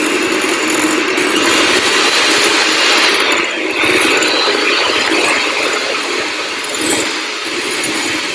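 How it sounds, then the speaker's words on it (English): Vegan carrot cake batter whisked steadily in a bowl, a continuous, loud scraping rattle with brisk rhythmic strokes that barely let up, heard alone without talk. "you still want to keep whisking a little bit longer until it starts thickening"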